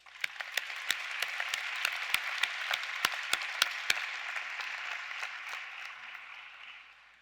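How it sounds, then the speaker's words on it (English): Commencement audience applause with several loud, sharp individual claps standing out near the start, then a broad wash of clapping that slowly fades out over about seven seconds. "I'd like to give another round of applause for the whole UPIKE staff and everyone's support system"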